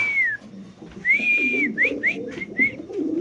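A Mundian pigeon gives a few whistly, rising coos and short chirping calls close by, in quick separate bursts over a low background murmur.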